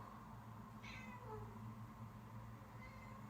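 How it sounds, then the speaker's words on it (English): A house cat meows once, a short rising cry near the microphone, over a low steady background hum in an indoor room. "There's a cat in the background, and it's just being very distracting."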